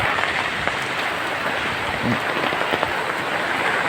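Steady, dense rain pouring down, a continuous loud hiss of drops hitting surfaces with no pauses.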